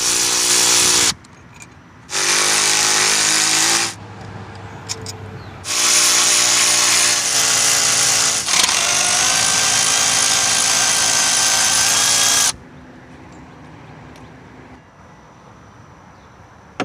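A cheap air compressor's nozzle blows loose dirt off a 5.2L V8 Jeep ZJ engine in loud, close, hissing blasts of air, three bursts separated by short pauses, with no talk.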